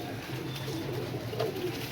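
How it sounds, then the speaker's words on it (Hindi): Pigeons coo softly and steadily while bathing in water treated with alum, a low murmuring call close by and fairly faint, with no talking. "नहा रहे हैं कबूतर"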